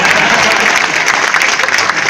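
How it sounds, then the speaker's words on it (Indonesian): Audience applause for Kamidi at a comedy show by Cak Lontong at Hotel Grand Tjokro, a dense, loud and steady wash of clapping from a large crowd. It runs without a break for about two seconds. "Tepuk tangan buat Kamidi."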